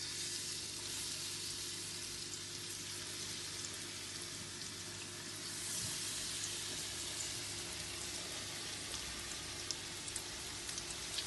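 Tempura pieces in a flour, corn flour and bicarb batter frying in a deep fryer at 180 degrees, giving a steady, dense sizzle that holds constant and close throughout, with no talk over it.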